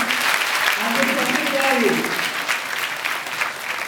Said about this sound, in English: Can I have a big round of applause for you?